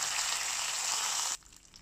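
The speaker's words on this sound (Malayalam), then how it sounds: "കടുക് പൊട്ടി വരുമ്പോൾ അതിലേക്ക് കറിവേപ്പില ചേർത്ത് കൊടുക്കാം." Curry leaves hit hot sesame oil with spluttering mustard seeds for a Kerala-style dried prawn pickle, producing a loud, close, bright hiss that cuts off abruptly after just over a second into faint quiet.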